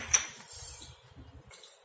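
Dry coffee powder and sugar being added to a steel mixer grinder jar, with a sharp clink of metal at the start followed by soft rattling and scraping, close and fairly quiet.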